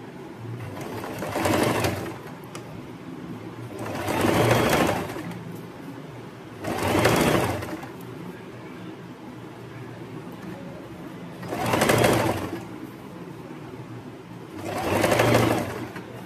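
Sewing machine top-stitching fabric to finish a hem, five loud bursts of stitching spaced a few seconds apart with quiet pauses between them.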